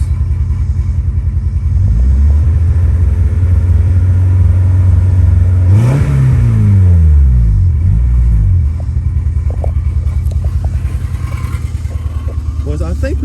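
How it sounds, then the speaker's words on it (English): A Honda Civic engine with a blown head gasket runs with a steady low rumble, then revs up briefly once midway before settling back to a rough idle. "think we may have a blown head gasket"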